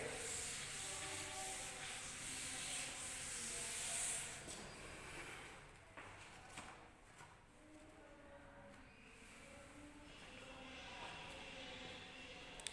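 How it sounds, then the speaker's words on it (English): A board in a Class X English classroom being rubbed clean, giving a steady, close scraping swish that is loudest for the first few seconds, then continues more softly. "So I'm going to rub it."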